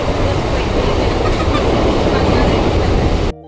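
A Mumbai local train running, heard from aboard as a loud, steady rumble and rattle of wheels on track that cuts off abruptly at the end.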